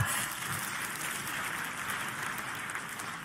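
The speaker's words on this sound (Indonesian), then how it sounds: "Boleh kita kasih tepuk tangan?" A church congregation breaks into sustained applause, a dense and steady wash of many hands clapping together with no voices rising above it.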